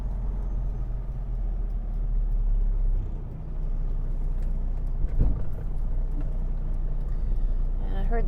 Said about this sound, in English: And I heard the fifth wheel hit